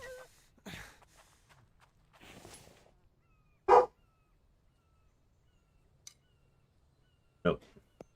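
A dog barks in a quiet room, a few separate loud barks spaced seconds apart with soft shuffling and faint noises between them.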